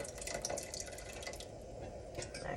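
Liquid is poured into a pot of gumbo as a soft, continuous splashing trickle, close by but faint, with no talking.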